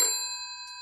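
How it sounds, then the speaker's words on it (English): A GPO 706 telephone bell rings briefly, a bright metallic ding with a sustained ringing tone that decays across the short span, heard alone without voices. "So I'm now rushing over to the other phone, which is ringing"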